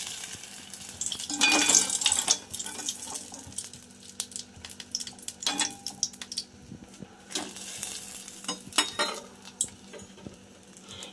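Ros bora dumplings fry in hot oil for a sweet Bengali dessert, with a soft background sizzle broken by intermittent clinks and scrapes of a utensil against the pan.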